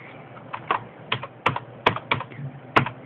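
Fingers type a file name on a computer keyboard, producing a run of distinct clicking keystrokes in irregular bursts, close and fairly loud, with no talking.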